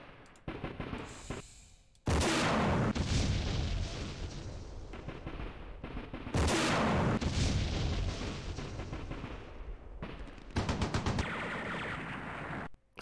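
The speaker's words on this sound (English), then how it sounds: "Still that machine gun there." Machine gun fire in the Campaign Series Vietnam wargame comes in rapid rattling bursts mixed with loud, booming impacts. The bursts arrive in several heavy volleys separated by brief quieter gaps.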